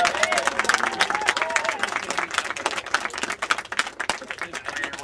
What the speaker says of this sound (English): I'd like to first of all give them a round of applause to thank them